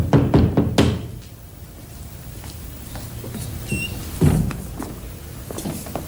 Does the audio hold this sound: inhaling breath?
no